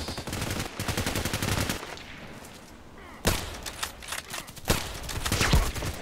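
Sniper rifle shots ring out in a first-person shooter match on the Old Sawmill map. Several sharp, loud cracks arrive amid a dense stretch of rapid gunfire, followed by a quieter pause and then more scattered heavy shots.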